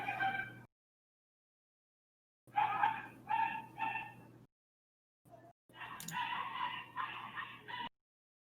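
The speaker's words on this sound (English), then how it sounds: "That dog is more interesting than this dialogue. It's so angry." An angry dog barks in several short bursts separated by silences, fairly close, with a raspy strained tone and no talk over it.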